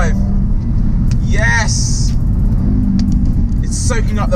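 An Audi RS3 quattro drives on a wet, greasy country road, a loud low engine rumble and road drone filling the cabin, with someone talking over it throughout.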